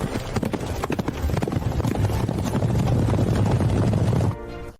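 Horses' hooves clip-clop rapidly on the ground, a dense, loud, steady clatter of many hooves moving together that cuts off abruptly near the end.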